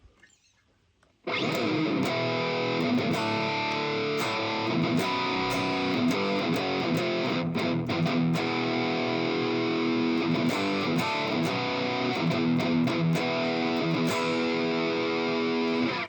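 Distorted electric guitar played through a Valeton GP-200 preset into a Mesa Boogie 4x12 cabinet sim, loud sustained chords and riffs with sharp palm-muted chugs and brief gaps, starting abruptly after a second of near silence.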